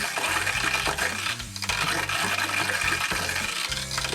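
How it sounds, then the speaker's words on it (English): Water pouring steadily out of an RV faucet while the water system is being flushed with antifreeze for winterizing, a loud, continuous rushing splatter close by, with faint clunks mixed in. "Look at all that water we're getting out."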